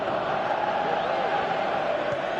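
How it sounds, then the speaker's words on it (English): Steady stadium crowd roar in a football video game, a broad sustained cheer holding level throughout with no distinct voices. "Crowd appreciates good football all round there"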